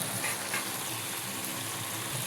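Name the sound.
meat being sautéed in a pan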